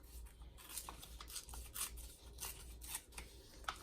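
Scissors snip through paper for a junk journal, a quiet run of several short crisp cuts in a steady rhythm, close by with no voices.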